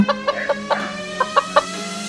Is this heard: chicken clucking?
yes